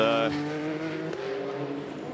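A race car at the Le Mans 24 Hours, a loud engine roar with a shifting pitch as it passes, fading into a steady broad rumble of track noise.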